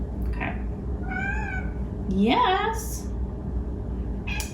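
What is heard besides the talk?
pet cat meowing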